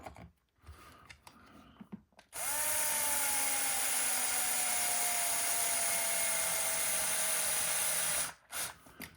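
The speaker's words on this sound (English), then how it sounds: "when you're using a drill, don't use a drill on high speed" A power drill drives screws into plastic parts of a Tamiya TT02 RC car kit with a Porsche 911 GT3 992 body, a loud sustained whine of about six seconds with a falling pitch, framed by brief quieter handling noises before and after.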